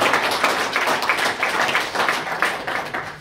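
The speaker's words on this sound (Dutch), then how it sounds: "Ik wil even vragen een tafel applaus voor deze twee kantjes." Steady applause from an audience at a Dutch business meeting on industrial estate strategy, dense overlapping claps filling the whole stretch at a fairly loud, even level with no talk over it.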